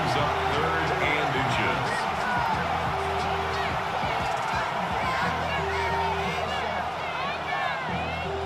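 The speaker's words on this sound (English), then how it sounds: "This crowd into it now as we get to 3rd down." Stadium crowd noise from the Madden 26 football video game, a steady loud roar and cheer for Super Bowl 60 as the Seahawks reach third down, running continuously with a faint tonal hum beneath.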